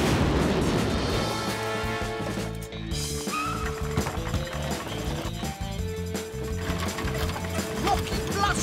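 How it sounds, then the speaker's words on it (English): A cartoon rocket blaster ignites and launches in a children's animated show, a loud continuous roaring rumble with tonal whistles and music layered through it, sustained throughout. "Rocket blaster coming through!"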